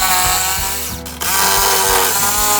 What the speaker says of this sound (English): I'm just gonna cut this out using a jigsaw.